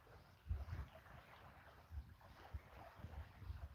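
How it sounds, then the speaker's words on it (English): Tide water sloshing against a loch shore at a wild campsite by a campfire, low irregular splashes arriving every second or so, close and soft under wind buffeting the microphone, with no voices. "I think the tide is coming. I can hear the water splashing up against the."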